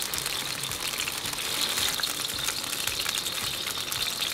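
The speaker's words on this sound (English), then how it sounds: "So I'm gonna add garlic ginger paste in it." Garlic ginger paste frying in hot oil for a karahi masala, a steady close hiss and sizzle with faint stirring, no voice.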